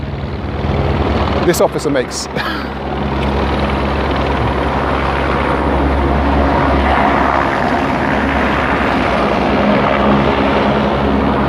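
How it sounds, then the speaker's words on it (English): A helicopter drones loudly and continuously overhead at a street scene in the UK, its steady rotor and engine noise filling the background while someone talks briefly over it. "I'm assuming that is a helicopter making all that noise in the background."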